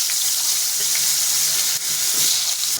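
Panch phoron spices and potato pieces sizzle steadily in hot oil in a pan for a Bengali fish curry, a dense, close, continuous frying hiss with faint stirring, no voices.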